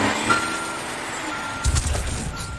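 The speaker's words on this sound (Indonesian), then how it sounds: "Kemudian dia memundurkan truknya." A truck backs up with its reversing beeper sounding, a thin repeated tone over low engine rumble, then a brief hiss like an air brake near the end, no voices.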